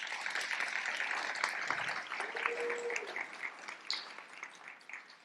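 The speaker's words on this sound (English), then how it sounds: "Please give him a round of applause." Audience applause for a judge at a leadership institute demo day, a fairly quiet spread of clapping that thins and fades toward the end, with a brief tone and faint voices mixed in.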